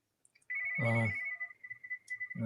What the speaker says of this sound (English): phone's going to stop here